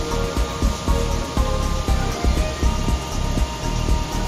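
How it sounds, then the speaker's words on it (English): An infrared BGA rework station heats an HP DV7 laptop board for video chip reballing, giving a steady, close, airy fan-like hiss with low rhythmic thumps, and no voices. "the dark IR station is nice because it brings it up to the flow point very gently"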